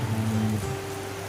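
Heavy rain pours down in a steady, dense hiss with a low drone underneath, continuous and fairly loud throughout.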